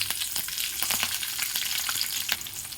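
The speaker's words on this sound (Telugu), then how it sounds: "పచ్చిమిర్చి ఫ్రై అయ్యే వరకు చూద్దాము" Peanuts and green chillies frying in hot oil for lemon rice give a continuous close bubbling sizzle with brief spatters and pops, with no talk over it.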